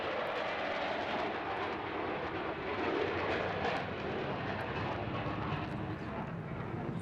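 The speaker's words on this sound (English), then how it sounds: "Giving you all a wave of jet noise as he pulls around there at the far end." A jet aircraft at a coastal airshow on the English Riviera, pulling around at the far end of the display, its broad roaring rush sustained and fairly distant, swelling slightly midway with no talk over it.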